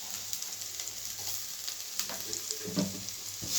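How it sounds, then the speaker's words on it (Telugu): Carrot, onion and green chilli fry in a pan with a continuous bright sizzle, marked by frequent scraping and stirring strokes of a spatula. "క్యారెట్, ఆనియన్స్, పచ్చిమిర్చి ఉన్నాయి కదండి, ఇవి కొంచెం దూరగా వేయించుకున్నామండి"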